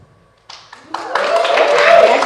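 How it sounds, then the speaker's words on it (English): Audience applause at a stand-up comedy show: after a few scattered claps, clapping builds quickly into steady, full applause from a crowd, with a laughing voice faintly underneath. "I actually got some applause for that."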